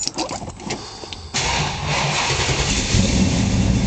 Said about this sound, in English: I'm gonna fire it up, let you hear it start up and running.